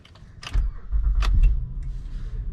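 An ordinary car started with a normal key, a short crank at the start that quickly settles into a steady low engine hum, close by and alone, with no talk.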